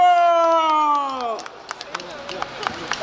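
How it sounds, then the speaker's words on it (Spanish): At a wedding in Ameyaltepec, guests clap for the bride and groom: scattered, light claps follow a sustained sung or played tone, with voices present. "Las palmas para los novios, las palmas."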